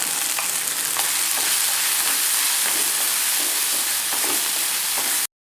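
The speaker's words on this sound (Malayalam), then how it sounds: "നമ്മൾ നേരത്തെ മിക്സിയുടെ ജാറിലിട്ട് ക്രഷ് ചെയ്ത് വെച്ചിരുന്ന നമ്മുടെ പച്ചമുളക്, വെളുത്തുള്ളി, ഇഞ്ചി നന്നായിട്ടൊന്ന് വാട്ടിയെടുക്കാം." Crushed green chili, garlic and ginger fry in a pan for lemon rasam with a loud, continuous sizzle and hiss, with faint stirring clicks throughout.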